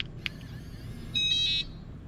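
A keyless RV door lock gives a brief click, then a clear, steady electronic beep lasting about half a second, close and alone over a low background hum.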